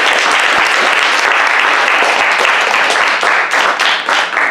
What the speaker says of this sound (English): let's first give Steve a round of applause.